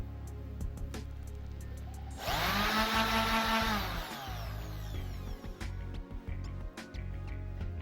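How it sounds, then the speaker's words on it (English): A power sander runs on a wooden family heirloom dining table for a loud steady burst of about two seconds, then winds down, amid faint outdoor background noise and scattered knocks. "So I kept sanding, and sanding, and sanding."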